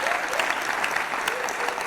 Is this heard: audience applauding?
yes